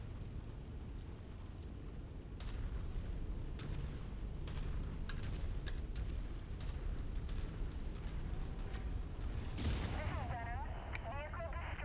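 Hyper assault Gauss rifle fire and explosions boom through a video game battle over a constant heavy rumble, with sharp blasts and a burst of rising electronic whine near the end.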